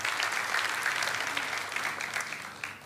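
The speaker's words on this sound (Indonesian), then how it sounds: "Tepuk tangan bagi Tuhan." A church congregation claps for God, a full, dense burst of applause from many hands that rises loud at the start and gradually thins and softens toward the end.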